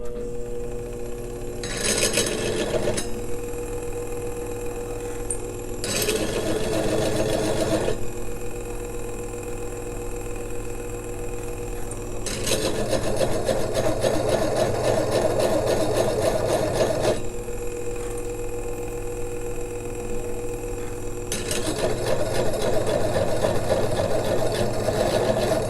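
Faceting machine polishing the culet row of a large tanzanite gem, a steady motor hum with a bright grinding, whirring texture that swells in repeated passes of several seconds, separated by quieter idling gaps.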